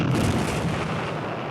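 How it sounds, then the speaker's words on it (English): Artillery, tank and mortar fire in the Korean War, a dense, rolling roar of heavy guns that sounds like continuous distant barrage rumble filling the whole moment without pause. "All along these hills, the artillery, the tanks, the mortars, everything is letting loose on the Chinese."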